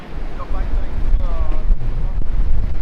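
Wind buffets the microphone outdoors at the Reading Pagoda, a loud, continuous low rumble that fills the whole moment, with voices faintly audible beneath it.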